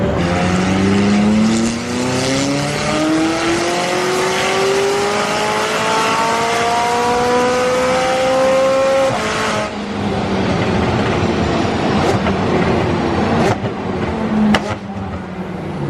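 A McLaren 600LT making about 604 wheel horsepower on a dyno: the engine note climbs steadily and loudly for about nine seconds, then the throttle closes and it drops to a rough, lumpy idle rumble with a few sharp pops.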